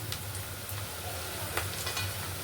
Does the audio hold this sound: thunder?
no